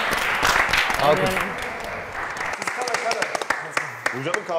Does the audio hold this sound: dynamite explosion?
no